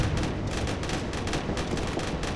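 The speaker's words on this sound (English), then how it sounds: "Let's fire some missiles." Missiles launch in the space combat game Starsector as a dense, continuous barrage of rumbling, crackling blasts that stays loud and steady throughout, with no voices.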